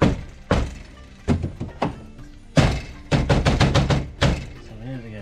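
Heavy thuds against the door of an 80 Series Toyota Land Cruiser to jolt a sticking power window motor, a series of close, loud knocks in irregular bursts with a quick volley near the end.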